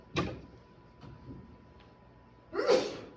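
A short, sharp sneeze bursts out, followed by quieter small noises and then a second breathy, sneeze-like burst near the end.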